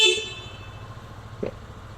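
A Keeway XDV180 EVO motorcycle gives a brief horn beep that fades quickly at the start. It is followed by a faint short blip against a low idle rumble.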